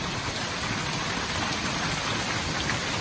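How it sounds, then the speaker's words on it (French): Steady rain falling in wooded hill country, a dense even hiss of drops on surfaces that stays constant and close throughout, with no voices. "Et il pleut."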